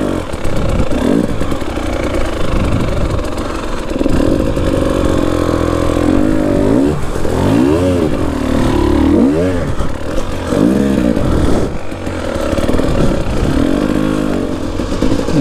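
A new KTM 300 TPI two-stroke dirt bike on an off-road break-in ride, its engine loud and close throughout, rising and falling in repeated revving surges over a steady drone.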